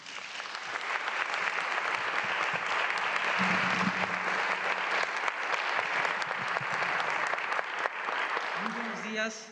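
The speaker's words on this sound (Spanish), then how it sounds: "Recibimos, por favor, con un fuerte aplauso a Fabián David Ríos Temix" Audience applauding at a national oratory and debate contest in Mexico as a speaker is welcomed, sustained hall-wide clapping at steady loudness for about nine seconds, with a faint voice briefly underneath.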